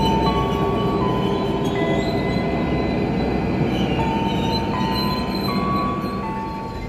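Cikuray passenger train rolling into track 2 at Cibatu station, a loud continuous rumble of wheels with intermittent high metallic squeals and tones, steady throughout with no talk.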